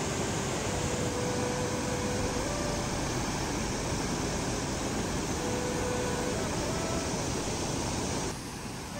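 Steady, dense rush of a waterfall near Sajla in Manali, a loud continuous roar filling the whole clip without a break, with no voices.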